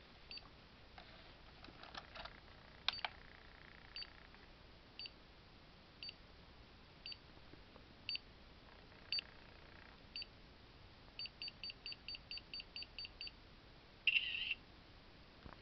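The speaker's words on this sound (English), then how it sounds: "Has a cool shutter sound in my opinion" Faint electronic beeps and short clicks of a digital camera, scattered at first and then a quick regular run, ending in a brief burst.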